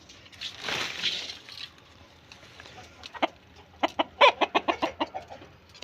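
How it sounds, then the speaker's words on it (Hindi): A large rooster kept with hens on a home terrace, clucking in a few soft calls and then a rapid burst of close, sharp clucks, with no talk. "और यहाँ पर हमारा बड़ा वाला मुर्गा।"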